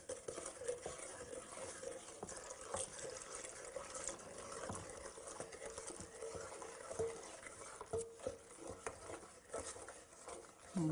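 A spoon stirring sugar and cornstarch in a bowl for a vanilla cream pie, a soft continuous scraping and swishing with faint irregular taps, fairly quiet and close.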